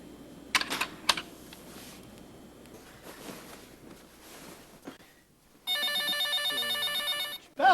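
A telephone rings in an electronic trill, loud and sustained for nearly two seconds, after quieter rustling and a few sharp knocks, ending with a brief burst of another ring.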